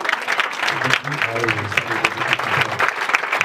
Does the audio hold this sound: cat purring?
no